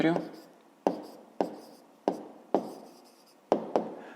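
Pen strokes on paper as a fifth-grade maths exercise is written out by hand, with short scratchy bursts repeating roughly every half second, close and fairly quiet.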